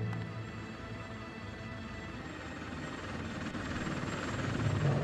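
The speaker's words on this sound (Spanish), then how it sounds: "tres aviones" Aircraft flying over in the video game Bullet Witch, a continuous rotor-like engine roar that swells louder toward the end, with no talk.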